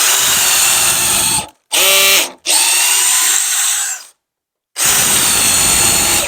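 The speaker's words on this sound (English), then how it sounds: "Then I get my drill, my DeWalt drill, and I'll go ahead and drill the pilot holes." A DeWalt power drill drives pilot holes into wooden cornhole boards, whining loud and close in three bursts separated by short silent pauses.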